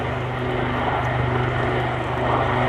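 Royal Navy Black Cats helicopters flying a display at RIAT 2024 make a steady, loud, droning rotor and engine roar that holds at close range as they come back toward the crowd.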